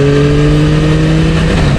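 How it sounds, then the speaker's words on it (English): A motorcycle fitted with a Yoshimura exhaust pipe accelerates on the road, its loud, close engine holding a steady droning tone that climbs slightly before easing toward the end. "Let me accelerate and move off"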